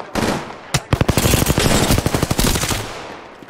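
Rapid automatic gunfire from a video game shooter, a dense burst of sharp shots fired close and loud, then tapering off near the end.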